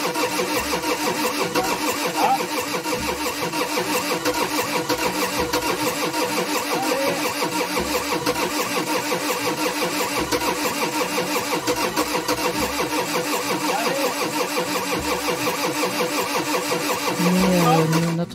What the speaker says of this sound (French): notre moteur diesel ne démarre pas